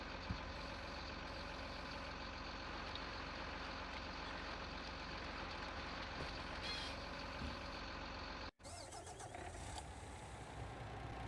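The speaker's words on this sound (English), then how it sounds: "But I will jump in my truck and go load up some stuff." A truck drives in the farming video game Farming Simulator, its engine a steady droning rumble close by and loud throughout, with a brief cut near the end before the engine noise resumes.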